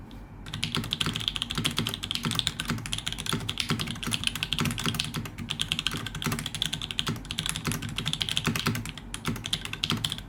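Steady, rapid typing on a gasket-mount mechanical keyboard fitted with a rubber ring, a dense, continuous patter of keystrokes at even loudness throughout, with no voices.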